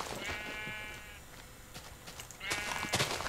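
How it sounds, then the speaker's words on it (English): Sheep bleating in the video game Minecraft, with two drawn-out wavering bleats at the start and end, fairly loud over a busy game background with no talk. "Sheep, I need a bed."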